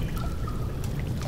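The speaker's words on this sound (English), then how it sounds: "Redirect sewer water." Sewer water redirected in the video game Amnesia: The Dark Descent, a brief, steady pouring and trickling rush of water.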